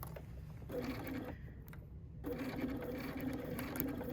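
A sewing machine stitches a seam on a quilt block for a 1930s sampler, running steadily and close, pausing briefly midway before resuming at a slow, even pace.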